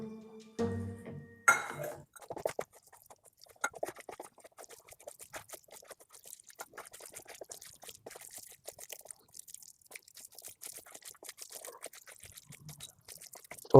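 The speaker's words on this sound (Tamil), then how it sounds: "நெக்ஸ்ட்டு பார்த்தீங்கன்னா தண்ணி ஊற்றணும்." Water poured from a tumbler into bread pakoda batter, a soft trickling pour with light glassy clinks running steadily for several seconds after a brief clatter at the start, close and fairly quiet with no talking.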